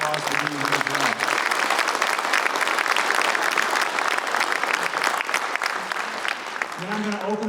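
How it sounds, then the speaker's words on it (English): Audience applause at a Michigan governor candidate forum, dense steady clapping across the whole stretch with a speaker's voice heard briefly at the start and end. "Let's give them all a round of applause for being here as well."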